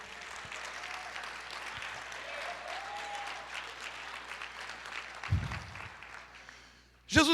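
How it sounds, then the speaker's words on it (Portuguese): A church congregation claps steadily in a broad, even wash of applause, with faint voices and a brief louder burst near the end. "você pode aplaudir o Senhor?"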